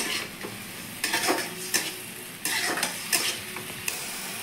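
Garlic paste masala with cumin and chilli frying for a rohu fish head curry, soft sizzling broken by a series of sharp spatula scrapes and clinks against the pan, fairly quiet and close.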